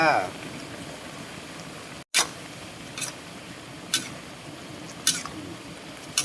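A pot of Thai jungle-style fish curry with minced fish, chili and long beans, made without oil or coconut milk, simmers quietly. Soft bubbling pops break the surface about once a second over a low background.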